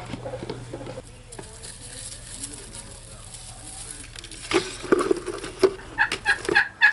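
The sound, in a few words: hens clucking in a chicken coop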